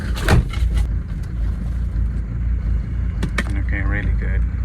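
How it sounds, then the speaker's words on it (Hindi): A 40-year-old Mercedes W124 idles with a low, steady engine rumble close by, joined by a few brief clicks and thumps, while a person talks over it near the end. "इस वक्त हमारी गाड़ी की आइडलिंग ऑलमोस्ट नॉर्मल हो गई है"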